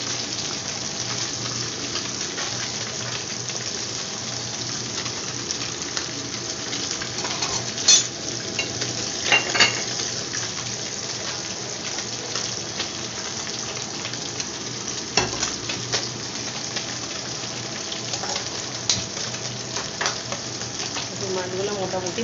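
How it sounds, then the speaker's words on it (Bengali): Small bata fish fry in a pan for a mustard curry, giving a constant soft sizzle with occasional louder crackles and spatters as pieces are turned, fairly close and moderately quiet. "মাছগুলো মোটামুটি ভাজা হয়ে এসছে"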